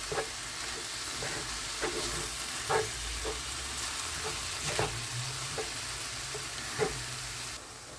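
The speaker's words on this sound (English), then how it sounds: "you're going to cook the ground turkey for about 10 minutes" Seasoned ground turkey browning in a pan for shepherd's pie, a steady close sizzle with occasional soft clicks and scrapes of a utensil moving the meat.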